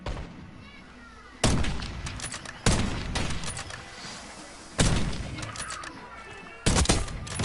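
Enemy gunfire in the Call of Duty Warzone Resurgence battle royale game, four loud bursts of rapid shots that each fade into a rattling tail, with a player talking in between.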